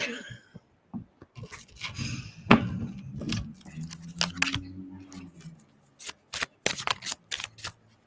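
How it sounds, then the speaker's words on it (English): Tarot cards being shuffled by hand at close range, a run of quick riffling bursts with short pauses, then a series of crisp separate snaps and flicks as cards are pulled. "apparently that's because I need to pull more cards"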